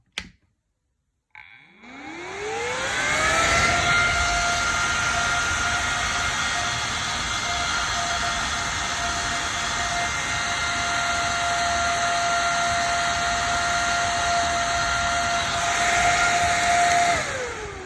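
A large powerful server-style fan switches on with a click, then its motor spins up in a rising whine and settles into a loud, steady whooshing roar that runs without a break to the end.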